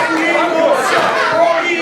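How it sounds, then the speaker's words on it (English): A crowd at an indie wrestling show in the Barre Elks hall, Vermont, chatters and calls out in a steady indoor hubbub, with several voices shouting over the general noise. "And Eric Pinhat not wanting to support the vocalization of the crowd here at the Barre Elks."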